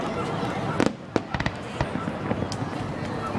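Outdoor Fourth of July fireworks show at Mt. Trashmore, with several sharp booms and crackles going off irregularly amid steady crowd noise and people talking nearby.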